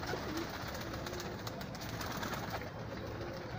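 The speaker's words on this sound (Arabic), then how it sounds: "حمام اهو" Pigeons coo softly inside a loft amid a dense, steady backdrop of flock murmur and rustling, with no voices.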